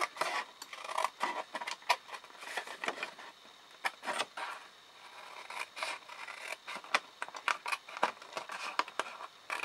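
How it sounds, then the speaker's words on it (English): Scissors snip up through large card tabs in a run of quick, close cuts with brief pauses between them, crisp and fairly quiet. "you're going to cut up on each of those large tabs, and you're just cutting straight up"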